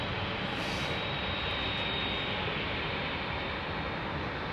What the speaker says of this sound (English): DHL 767, headed for takeoff